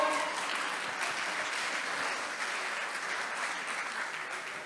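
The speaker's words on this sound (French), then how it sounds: "Tonnerre d'applaudissements." A crowd of attendees applauds warmly at a startup pitch and networking event in the Palais Brongniart in Paris, a dense, steady wash of many hands clapping that holds throughout and eases slightly toward the end.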